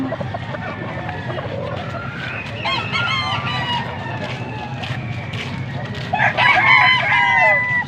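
Young roosters (stags) crow repeatedly at a busy poultry market in Angeles, Pampanga, with overlapping calls near and far, clucking and goose-like honks mixed into a steady crowd murmur and background voices.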